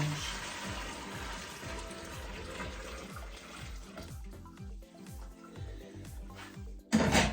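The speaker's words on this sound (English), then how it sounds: "I'm going to tip that water into there carefully, because it's hot and hot water burns." Hot water pours steadily with a gurgling, splashing flow that runs for several seconds while brewing a Belgian dubbel beer, ending in a brief louder clatter.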